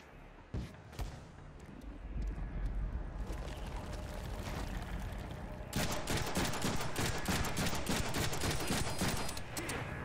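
Pistol fire in the Deadpool video game, a dense burst of rapid game gunfire and impacts, loud and continuous, growing busier and louder partway through with no talk over it.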